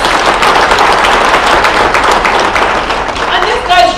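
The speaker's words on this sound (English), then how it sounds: "we'll just clap for you, Theo and Bridget" An audience applauds for Theo and Bridget at a live-streamed gathering: dense, loud, continuous clapping from many hands close by, with voices mixed in and some louder claps near the end.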